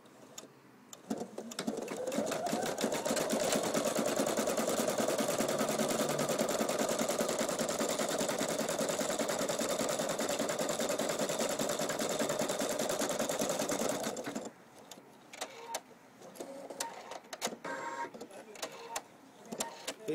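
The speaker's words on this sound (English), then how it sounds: "we're just doing a simple cross stitch embroidery onto some calico, and we've got two layers of wadding in between. The machine's doing it with no problem whatsoever." A Pfaff Creative Sensation embroidery machine cross-stitches onto calico backed by two layers of wadding, giving a fast, steady mechanical rattle for about thirteen seconds before stopping, followed by light clicks and handling noise.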